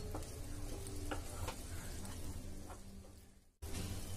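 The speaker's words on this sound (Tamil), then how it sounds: "இப்போ நல்லா மிக்ஸ் பண்ணி விட்டுக்கலாம்." A cooked tomato curry mixture being stirred in a pan, with a continuous low sizzle and periodic spoon scrapes close by, then a brief drop to near silence just before the sound resumes.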